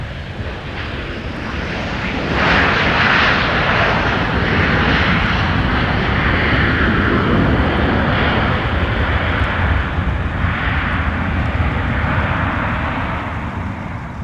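Southwest Boeing 737-700 jet airliner arriving at a wintry Minneapolis–St. Paul airport, a loud broadband engine roar that swells after a couple of seconds and holds steady before easing slightly.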